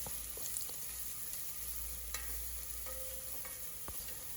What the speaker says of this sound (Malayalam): ആ മസാലയുടെ പച്ചമണമൊക്കെ മാറുന്നത് വരെ നന്നായി ഇളക്കി കൊടുക്കുക.